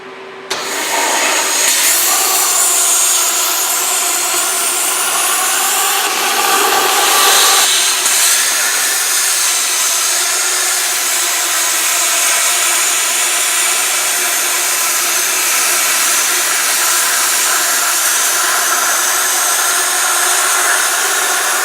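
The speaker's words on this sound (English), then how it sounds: "I'm just going to take a plasma cutter and just carve that out on each side" Plasma cutter carving slots out of steel for an axle stand, a loud close steady hiss and roar starting abruptly and running unbroken for the whole stretch.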